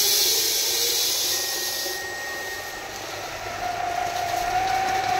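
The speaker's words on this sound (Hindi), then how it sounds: "ये GMS 40 मॉडल है, मतलब कि 1 घंटे में 40 किलो सरसों प्रोसेस करने वाली मशीन।" A GMS 40 mustard oil expeller machine, rated for 40 kg of mustard seed an hour, runs with a continuous mechanical whir and hiss, dipping slightly then swelling again with a thin rising whine.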